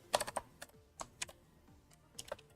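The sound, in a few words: typing on a computer keyboard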